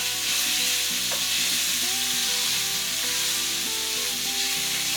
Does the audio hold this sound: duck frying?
yes